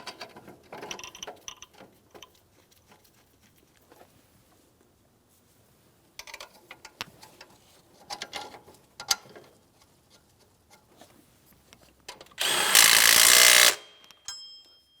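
Ratchet and socket work tightening alternator mounting bolts on a 2007-2014 GMC Sierra 2500 HD, with bursts of close metallic clicking and clanking and a loud, harsh power-tool whir near the end.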